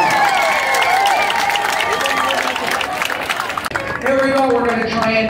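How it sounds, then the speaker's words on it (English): Cruise ship poolside crowd on Liberty of the Seas applauding belly flop contestants, with loud clapping and cheering mixed under busy chatter and a few shouts, the noise dipping briefly before picking back up. "give them all a great round of applause"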